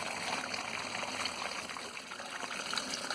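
Water pours steadily into a very dry plant pot during peak summer plant care, a soft continuous trickling and splashing, fairly quiet and close, with no talking.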